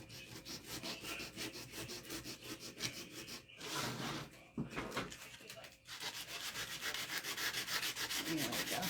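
Sandpaper rubbed briskly by hand along the edge of an old wooden sign, quick back-and-forth scratchy strokes in a steady rhythm, close and fairly quiet, with a couple of short pauses between bursts.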